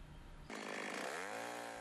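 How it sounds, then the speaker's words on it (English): Chainsaw cutting through tree bark to girdle an unwanted tree during woodland improvement work, starting abruptly at full roar and holding a loud, steady engine drone with a slight pitch shift as it bites in. "Chainsaw girdling is accomplished by cutting through the bark at a height that is comfortable for you to hold the saw."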